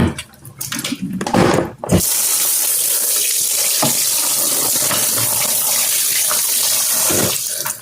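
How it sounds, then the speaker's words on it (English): Running kitchen sink tap rinsing food, a steady loud stream of water splashing into the basin after some brief handling noises at the start. "So I'm gonna rinse it off one more time."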